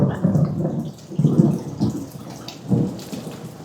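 Heavy tropical rain pours steadily over a garden while rolling thunder rumbles in several deep, drawn-out swells, loud and close, with no voices.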